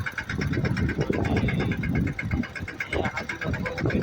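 A farm tractor engine running nearby with a steady, loud, throbbing rumble that holds without a break, while a person talks over it.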